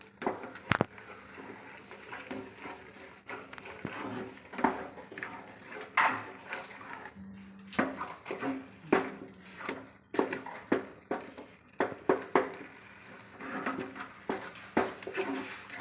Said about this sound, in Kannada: ಕಾಯಿ ರುಬ್ಕೊಂಡಿರ್ತೀವಲ್ಲ ಅದನ್ನು ಚೆನ್ನಾಗಿ ಹಾಕಿ ತೊಳಸ್ಬೇಕು